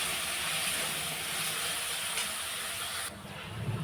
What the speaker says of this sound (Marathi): टोमॅटोलाही छान परतून घेऊया तेलावर।